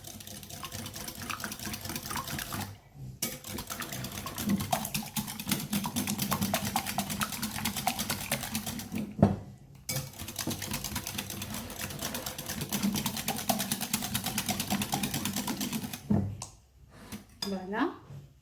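Batter for Kabyle tahboulte el merka being stirred in a bowl without whisking, oil just added: continuous clinking and scraping of a utensil against the bowl, with brief pauses, under occasional talk.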